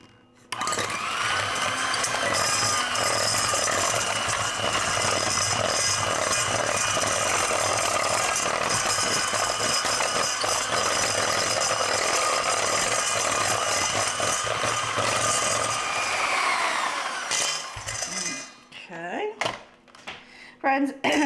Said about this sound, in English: Then we're going to get our little mixer and mix this up.